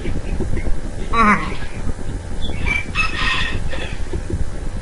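A Minecraft chicken gives a short pitched clucking call, clear but brief, over ongoing game noise with a voice talking nearby.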